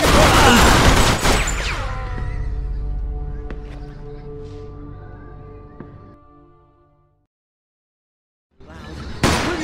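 A loud burst of gunfire rips through a Mafia 2 gameplay scene, then a ringing, echoing decay fades to silence before another sharp noise cuts in.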